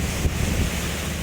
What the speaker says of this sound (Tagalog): Malakas po ang hangin doon sa laut.